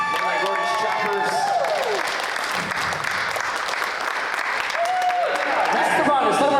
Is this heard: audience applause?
yes